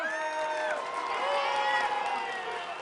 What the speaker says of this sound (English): Crowds cheer in the streets.